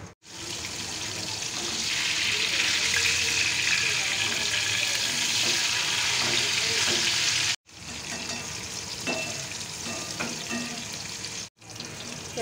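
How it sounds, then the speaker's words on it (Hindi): Potatoes and pointed gourd frying in a pan, Bengali style: a loud, steady sizzle with stirring sounds, broken by two brief gaps. "अब इसे अच्छा से फ्राई कर लेंगे।"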